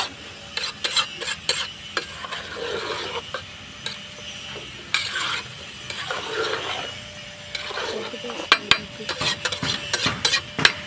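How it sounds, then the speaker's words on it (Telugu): A spoon stirs tomatoes and salt in a pan for chicken curry, a soft sizzle beneath repeated scraping and clinking strokes in an irregular rhythm, close by with no talking. "టమాటా వేసిన తర్వాత సాల్ట్ వేసుకొని ఇలా కలుపుకోవాలి."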